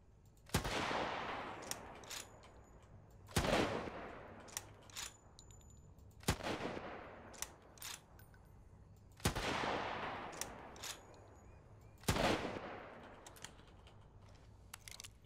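Gunshots in a zombie survival video game, five sharp, loud single shots spaced about three seconds apart, each followed by a short fading tail and light clicking and tapping in between.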